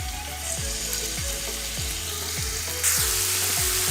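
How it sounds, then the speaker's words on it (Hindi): Marinated chicken fries in about two tablespoons of oil in a frying pan, giving a steady, close sizzle with repeated soft thuds of the pan or utensil and a brief louder hiss near the end. "ये हमारा चिकन फ्राई हो रहा है"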